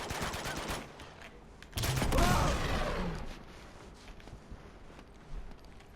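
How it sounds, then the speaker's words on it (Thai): A short burst of gunfire in Uncharted: The Nathan Drake Collection, a quick volley of bright, snappy shots up close, followed by quieter clatter and faint shuffling. "เสียงปืนน่ารักดีฮะผมชอบ"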